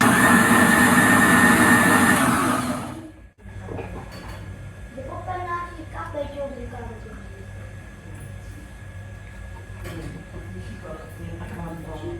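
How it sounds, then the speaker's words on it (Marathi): A mixer grinder blends apple, beetroot and carrot into a smoothie, a loud close whirring roar that runs for about three seconds and then cuts off abruptly, followed by quieter voices talking. "इथं आता ॲपल बीटरूट आणि गाजर वगैरे मी कट करून घेतलं आहे आता मिक्सरला फिरवून घेते"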